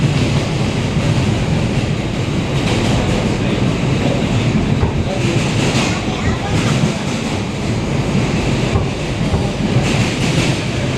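A New York City subway car rides near the Bryant Park station, a loud continuous rumble with rhythmic rail clatter heard from inside the car, and a voice speaks faintly beneath it.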